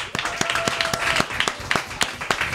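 Audience at a café in San Benedetto del Tronto claps in a sparse, uneven round of applause, individual hand claps distinct and fairly close, with some voices underneath.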